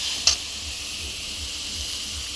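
Salt, chili powder and turmeric sizzle with lote fish in a hot pan, a steady bright hiss of frying oil close up with a low rhythmic stirring thump underneath and one brief scrape near the start.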